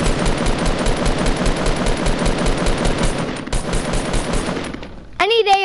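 Rapid automatic gunfire from a battle royale video game, loud and sustained in dense bursts, ending with a short electronic game sound.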